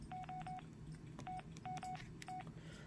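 Default beeping tone on a Samsung Juke phone: short, clean electronic beeps in quick clusters of two or three, repeated several times over faint background hum.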